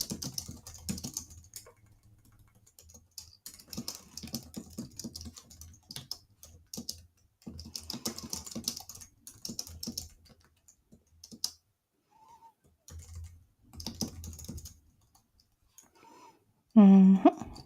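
Typing a message on a computer keyboard, with bursts of soft, rapid key clicks close by, pausing now and then, and a short louder noise near the end.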